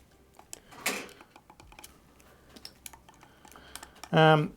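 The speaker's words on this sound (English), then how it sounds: "Hear these rotary encoders? They feel like good clicky rotary encoders there." Rotary encoders on a Cammus C5 direct drive wheel give a few light, close clicks, with a sharper, louder burst near the end of the short stretch.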